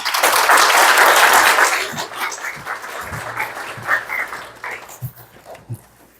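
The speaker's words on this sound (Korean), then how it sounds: "박수로 격려해 주십시오." A church audience at a sermon festival applauds to welcome a preacher, with loud dense clapping that fades after about two seconds into a few scattered claps.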